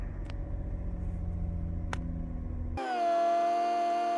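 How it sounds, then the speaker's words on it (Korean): Car engine cranks and catches after a steady low rumble, settling into a steady idle with a constant hum, close and fairly loud, with no talk. "리셋을 하고 시동을 걸었습니다."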